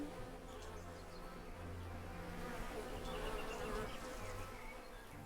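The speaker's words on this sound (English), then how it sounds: "You can hear all the bees" Steady dense buzzing of many bees around beehives in the video game Lumberjack's Dynasty, a continuous droning swarm held at an even level throughout.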